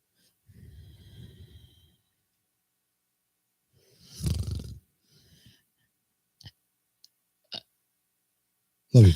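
A man sleeping gives a low, rough snore, then a louder, longer snort-like snore a few seconds later, followed by scattered small breaths and clicks and a sharp final gasp, all close and otherwise quiet.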